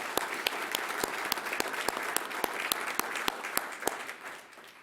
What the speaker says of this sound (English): Let's have a round of applause for these Glendale folks.